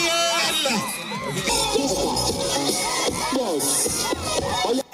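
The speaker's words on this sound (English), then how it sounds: "A round of applause for contestant number 4." A crowd cheers and whoops for a beauty pageant contestant, loud shouts and yells layered over a dense, continuous roar with children's voices audible.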